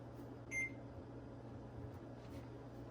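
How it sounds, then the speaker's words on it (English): A microwave oven being set to cook a vegan apple pie gives a single short beep close by, then runs with a low, steady hum. "you like throw it in the microwave for like 6 to 8 minutes"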